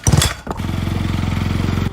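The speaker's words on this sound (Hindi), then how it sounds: "साहिल अपनी बाइक पर उसे बिठाकर उसकी मंजिल की ओर बढ़ चला" A motorcycle sound effect in a narrated Hindi horror story: a brief thump and rev, then a loud, steady engine idle with a rapid even pulsing throb running to the end, no talk over it.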